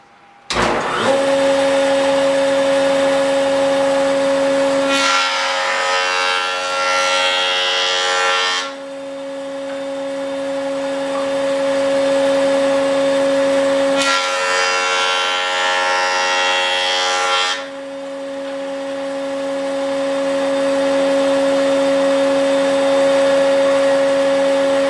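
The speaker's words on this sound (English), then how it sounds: "run it through the joiner." Jointer machining a wooden board in a lumber-milling shop: a steady close motor hum and whine throughout, with two loud bursts of cutter-head chatter as the board passes over the knives, and no speech.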